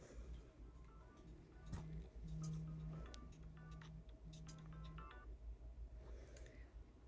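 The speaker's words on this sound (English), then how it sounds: "that was someone calling my phone" A mobile phone ringtone plays on a call in a quiet room, a repeating melodic electronic tone in several short phrases over low background hum, fairly faint, with a few light clicks around it.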